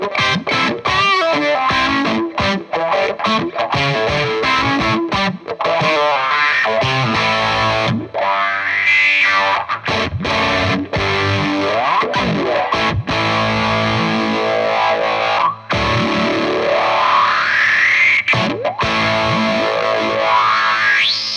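A guitar effects pedal in reverse mode makes distorted guitar notes swell in backwards with rising, sweeping pitch glides and chorus-like shimmer. The sound is dense, loud and continuous, with no talking.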